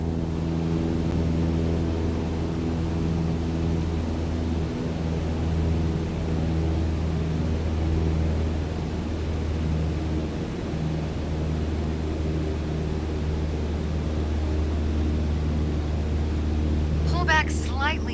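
A light aircraft engine at full throttle in Microsoft Flight Simulator, a steady droning hum with strong low tones that holds constant throughout, with faint brief sounds near the end.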